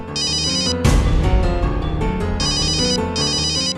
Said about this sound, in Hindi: किसका फोन है थी?